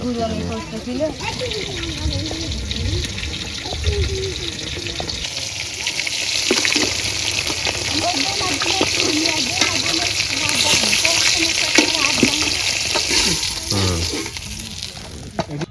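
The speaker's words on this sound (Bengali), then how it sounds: "মাছ ভাজা তো শেষ হয়ে গেছে" Pieces of catla fish fry in oil in a village kitchen, a loud, continuous sizzle with occasional bubbling, while voices talk over it.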